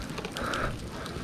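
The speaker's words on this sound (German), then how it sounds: "Jetzt haben wir einen Regen hier." Rain at an outdoor amusement park, heard as a dense, close hiss of drops pattering on surfaces, steady through the brief moment with no speech.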